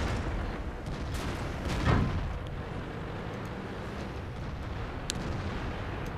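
Heavy tank guns firing in the World of Tanks video game, a KV-5 among them: a single loud boom near two seconds over a steady noisy battle rumble, with fainter distant shots later.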